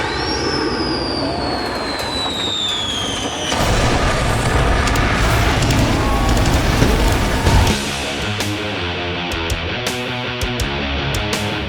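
Gunpowder explosions in a film scene, booming blasts with rumbling debris over a whistling, roaring sweep, dense and loud throughout, then giving way to music-like tonal layers near the end.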